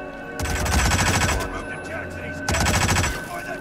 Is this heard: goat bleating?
no